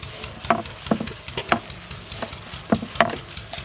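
Washed fenugreek leaves being chopped fine with a knife on a board for aloo methi: six or seven crisp, evenly spaced chops over a little more than three seconds, close and fairly quiet.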